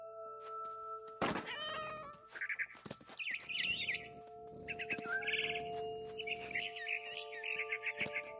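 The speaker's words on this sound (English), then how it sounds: "Then I heard chirping outside my window. It was a barn swallow" Bright, rapid barn swallow chirps from a PS4 video game in short bursts over a steady electronic hum, with a few cat-like meows mixed in.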